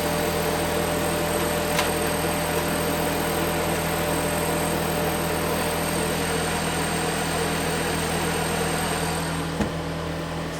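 GweikeCloud laser cutter cutting 3 millimeter scrap acrylic, a constant droning hum of fans and motors that stays loud and even throughout, with a couple of faint clicks.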